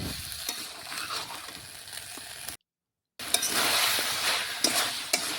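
Chicken and potatoes cooking in a pan, stirred with a utensil over a continuous frying sizzle, with scraping strokes and light metallic clinks, briefly cut to silence midway.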